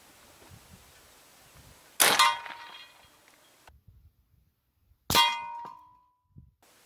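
Two shots from a B&W S45 .45 caliber semi-auto air rifle ring out a few seconds apart, each a sharp loud crack followed by a metallic clang of the pellet striking a target, with quiet handling noise between.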